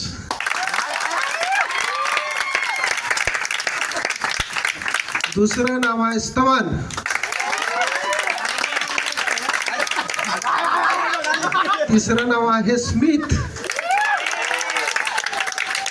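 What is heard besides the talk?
audience applause for each name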